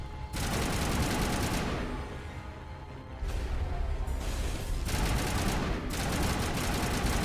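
Sustained, dense automatic gunfire from Mass Effect fills the scene, loud and continuous with two short lulls where the bursts drop off before resuming.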